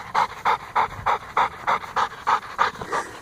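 A dog that is unbothered by fireworks pants in a quick, steady rhythm, each breath a close, loud burst repeating about three times a second with no voices over it.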